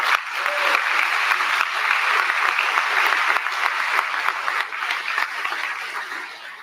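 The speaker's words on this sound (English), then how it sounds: "we need to applaud her right now for doing that." An audience applauds at a graduate commencement Mass, a dense, sustained wash of clapping from a large crowd that holds steady throughout and fades slightly toward the end.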